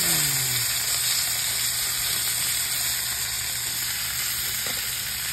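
Dried milkfish, daing na bangus, fries in a pan with very little oil, giving a steady close sizzle and crackle that runs the whole time with no talking.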